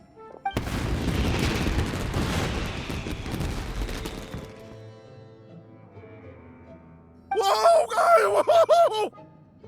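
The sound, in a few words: fireworks exploding in the video game Genshin Impact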